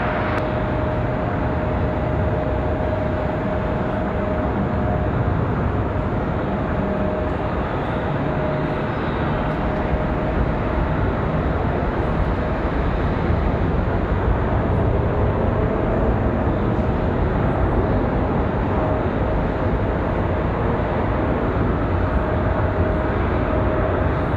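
A jet airplane taking off from runway 5 right at Raleigh-Durham International Airport, a loud steady broadband engine roar that holds constant throughout without fading.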